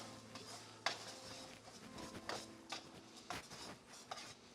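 A spoon stirs sloppy joe sauce with brown sugar in a pan, giving soft scraping strokes and a handful of light clicks and taps against the metal, quiet and close.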